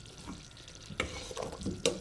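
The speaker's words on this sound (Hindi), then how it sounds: "इसके अंदर पहले मैं हरी मिर्चें डाल देती हूँ" Green chillies go into hot kadhi with a few sharp sizzling bursts and a scraping stir, close and fairly quiet, in a home kitchen making pakora curry.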